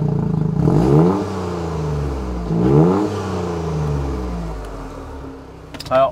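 A Dodge Viper engine revs in neutral with two strong rising and falling throttle blips over a deep, steady idle rumble, loud and close, ending with a brief sharp click.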